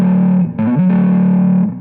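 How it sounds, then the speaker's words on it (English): A sustained distorted electric guitar note rings out loud and close, briefly bending to another pitch before settling back. "As soon as you kick on the distortion,"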